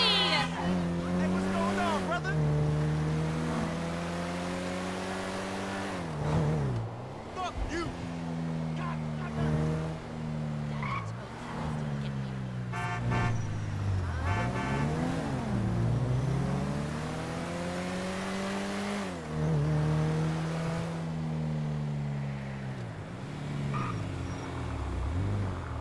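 Video game car driving with a steady engine drone that repeatedly rises and falls, plus brief tire squeals, running throughout with voices talking over it.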